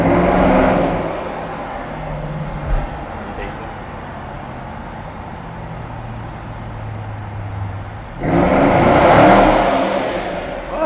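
Jaguar XK8 engine droning steadily inside a tunnel, swelling loud at the start and again near the end as it accelerates, with people talking over it.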